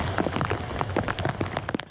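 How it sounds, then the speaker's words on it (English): Torrential rain pounds down with whipping wind during a flood, with the Colorado River swelling in Fayette County; a dense, close, steady wash of rain spatter fills the short stretch with no voices. "Torrential rain and whipping wind pound the city."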